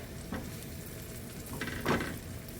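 Chopped veggies and onion sautéing in a pan for cheesy scalloped potatoes, a soft steady sizzle with a couple of brief scraping stirs, fairly quiet and with no one talking.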